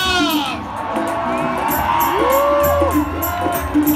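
A large outdoor concert crowd at a Punjabi music night in Nawanshahr cheers, whoops and shouts continuously, with clapping mixed into the roar and shrill individual voices rising above it.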